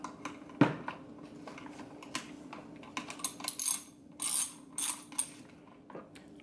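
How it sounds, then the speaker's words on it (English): A socket wrench snugs screws on an old-model Hi Point 995 carbine during cleaning, making quiet, irregular ratcheting clicks and small metallic taps scattered through the clip, close by. "So I'm gonna just go ahead and use my socket here,"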